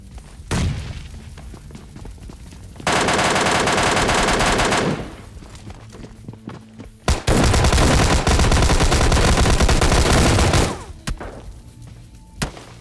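Close-range gunfire in PUBG Lite during an indoor fight: loud sustained automatic bursts lasting a few seconds each, separated by scattered single shots and thuds.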